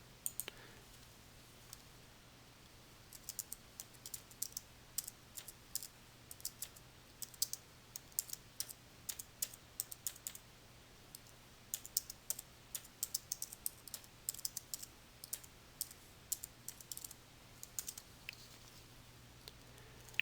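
Rapid clicking of a computer keyboard as a message is typed, steady irregular key taps close by with no talking.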